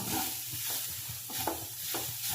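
Grated coconut roasts in a pan for a spicy beef curry, stirred with a soft scraping rhythm over a low continuous sizzle, close and without voices.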